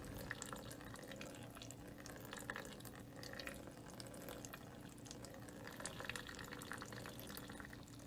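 A thin stream of water runs steadily from a tap in a classroom-style demonstration, making a continuous, even splashing hiss with no pauses and no voices.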